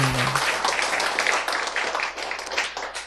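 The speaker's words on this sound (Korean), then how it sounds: "박수" Audience applause at a gathering of families and teams, a dense spread of clapping that swells and dips for about three seconds, fairly close and full, with a brief low hum at the start.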